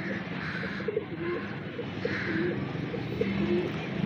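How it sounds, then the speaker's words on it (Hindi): Pigeons cooing on a rooftop, repeated soft low coos from several birds close by over steady background noise, with faint rustling. "प्यारे प्यारे कबूतर हैं तमाम, ये अभी इनको उड़ाते हैं"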